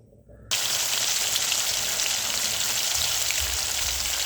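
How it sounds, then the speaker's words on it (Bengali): Loud, steady sizzling of rohu fish frying in hot oil starts abruptly after a moment of quiet and continues crackling without pause. "মাছগুলো এবার আমি ভেজে নিচ্ছি।"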